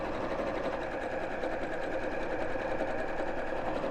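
A domestic sewing machine stitching a 1/4 inch seam around a curve in fabric, driven by a foot pedal, running steadily and continuously at close range, with no talk.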